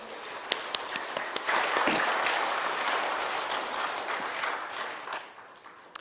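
A church congregation applauds its teachers in a sanctuary, a broad wash of many hands clapping that swells after a second and holds steady, moderately loud, then tapers off near the end, with no voices over it.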